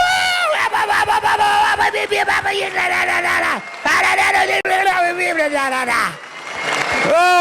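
Audience at a film festival surf night awards cheering and whooping for John Milius, loud crowd shouts and screams in two long bursts with a short lull between.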